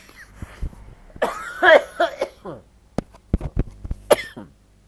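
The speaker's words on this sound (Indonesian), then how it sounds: "Kalau batuk" Several sharp coughs, close and fairly loud, scattered between bursts of speech-like voice and throat clearing.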